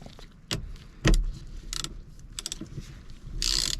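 Ratchet tightening the steering wheel nut on a GM car, with a few close, sharp clicks and mechanical knocks spread over a few seconds and a brief louder rattle near the end.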